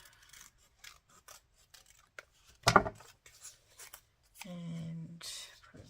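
Paper cut with scissors for a one-page Daphne's Diary collage: a short, loud crisp snip, then a sustained rasping slice, with quiet rustling around it and no talk.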